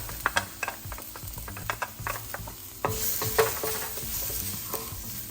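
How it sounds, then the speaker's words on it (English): Garlic sizzles in about a teaspoon of oil in a wok over medium heat, with sharp stirring clicks of a utensil at first, then a steadier louder hiss of frying. "into the wok on medium heat, I'm going to add about 1 teaspoon of oil. And then add the garlic"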